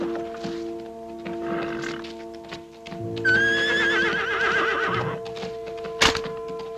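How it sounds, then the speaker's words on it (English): A horse neighs and whinnies loudly with clip-clop hoofbeats as it approaches at a canter, with a sharp thump near the end and steady background hum throughout. "I say it's an horse coming up at the canter, Joe."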